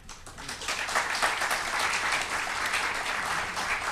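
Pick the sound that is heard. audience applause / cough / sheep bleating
audience applause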